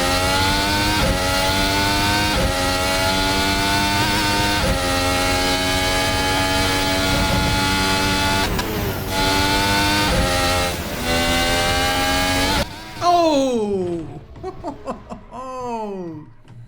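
An F1 car screams around Zandvoort on a flying lap in F1 2020, its engine whining loud and close as it climbs through gears with brief shift dips, then drops into rapid downshifts and falling revs near the end.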